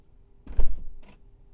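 A Tesla Model 3 front passenger door opening via a button press: a soft electric click and thunk of the latch releasing, followed by a brief lighter mechanical sound, close and alone.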